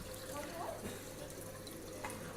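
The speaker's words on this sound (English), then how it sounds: "we have to put the water inside the beaker until it reaches" Water runs steadily from a pipe into a beaker during a flow-rate experiment, a faint constant trickling and splashing close by.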